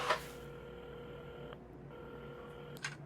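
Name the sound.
telephone being dialed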